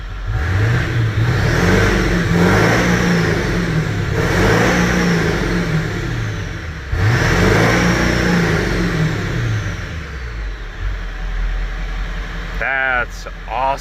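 A 1997 truck with a 7.3 diesel engine being driven hard, its loud engine note rising and falling through repeated revving pulls, with a voice speaking over it and a short squeaky whine near the end.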